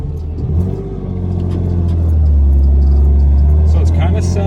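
A Lexus SC300 engine rumbles loudly from inside the car, its deep drone climbing and holding steady as it accelerates above idle, with a steady roar filling the cabin.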